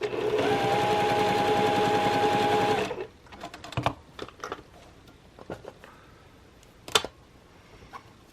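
Sewing machine stitching quilt blocks runs in a steady, close whir for about three seconds, then stops, followed by scattered light clicks and taps of handling fabric and the machine.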